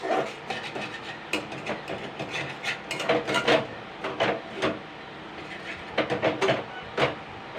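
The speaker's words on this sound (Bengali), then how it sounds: "এইভাবে এইভাবে নেড়ে যেতে হবে" Fish roe is stirred in a wok with very little oil over the flame, making repeated scraping, clattering strokes in an uneven rhythm, close and moderately loud, with a voice talking intermittently underneath.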